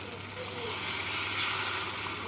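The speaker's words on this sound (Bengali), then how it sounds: "মশলাটা কষানো হয়ে গেছে মশলা থেকে তেল ছেড়ে এসছে এবার এর মধ্যে আমি দিয়ে দেবো এক কাপ গরম জল" Hot water hits frying masala in a pan while cooking paneer gravy, setting off a loud, steady hissing sizzle that swells briefly and then holds.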